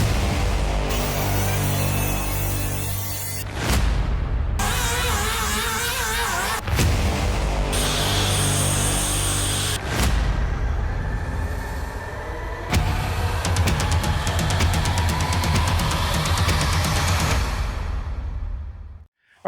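A 1971 Datsun 240Z under restoration drives with a loud, steady engine drone and road rumble. Gear changes break the drone with brief dips, then it rises again and cuts out at the end.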